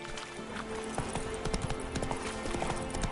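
Roach the horse's hooves clip-clop in a steady walking rhythm in The Witcher 3, clear and close, with faint speech in the background.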